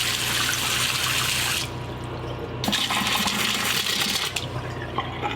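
Steady rushing of water pouring from a tap into a sink, with a brief lull before the flow surges back, close by.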